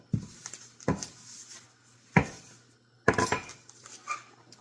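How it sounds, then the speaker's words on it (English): Homemade corn tortillas are laid on a warm skillet over medium-high heat, with four sharp knocks and clatters of cookware spaced a second or so apart, close up and with no talking. "we're going to plop them on that warm skillet over medium-high heat"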